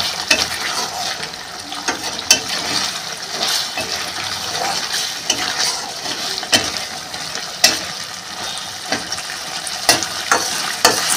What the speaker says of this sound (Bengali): মশলাটা মাছের সঙ্গে কষানো হয়ে গেছে।